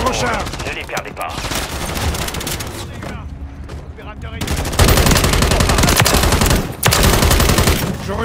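Rapid automatic gunfire and explosions from the Call of Duty video game come in dense, loud bursts with a brief lull, while players speak over the action.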